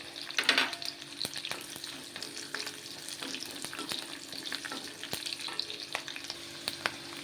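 Dried red chilies frying in hot oil, a steady close-up sizzle with crackles and occasional sharp pops, one louder burst near the start, no voices.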